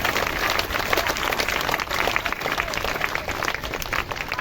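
Dense, sustained applause from a large audience at a Ram Katha religious discourse, many hands clapping steadily and loudly throughout with no break.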